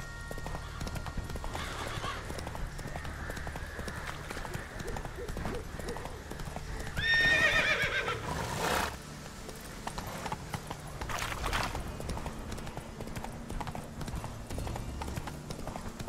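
Geralt's horse Roach from The Witcher 3 gallops with rapid, rhythmic hoofbeats, breaking into a loud whinny midway before the clip-clop carries on quieter beneath game music and ambience.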